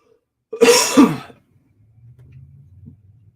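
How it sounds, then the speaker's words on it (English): A single harsh cough bursts out near the start, followed by quiet breathy rumbling afterward. "I apologize for the cough."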